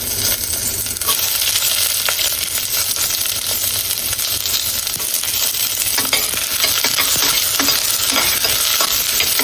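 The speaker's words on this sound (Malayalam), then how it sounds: "ഈ ഉടനെ തന്നെ നമുക്ക് സവോള ഇടാം." Onion added to a hot pan with garlic and green chilli, sautéing in oil for a healthy vegetable soup; steady close sizzle and crackle with occasional utensil scrapes, no talking.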